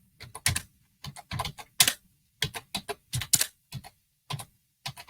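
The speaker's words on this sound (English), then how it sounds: "Your mic is on and we're hearing you typing. Oh. You're like hammering away on the keyboard" Rapid, uneven clacking of a computer keyboard being typed on hard through an open microphone in a live online homeschool class, with bursts of keystrokes separated by short pauses, close and fairly loud, with no talking.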